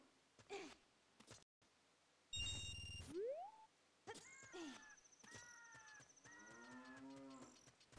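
Cow mooing in the Ocarina of Time video game, several drawn-out synthesized moos with gliding pitch separated by short electronic game sounds, clear and close with no talk.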